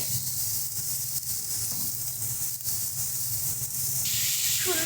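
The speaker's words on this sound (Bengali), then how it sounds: "সুন্দর করে একদম ভালো করে এটাকে আমরা কষিয়ে নেব।" Tomato with turmeric, red chilli, coriander and cumin powder sautéing in a pan, a steady hissing sizzle that grows brighter toward the end, with no talking.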